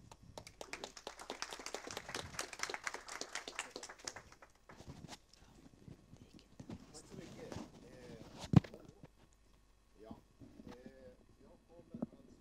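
Applause from a conference audience welcoming a speaker, many hands clapping densely at first, then thinning into scattered claps, a loud thump and some movement noise, with talk starting near the end.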